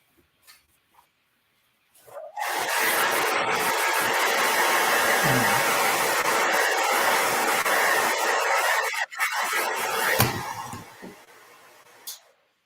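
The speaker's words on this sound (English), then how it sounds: "Now I'm going to take my blow dryer one more time. And get this nice and dry." A blow dryer runs steadily for several seconds to dry acrylic paint on a Halloween painting, a loud continuous whooshing roar that cuts off, with a brief click and a softer burst near the end.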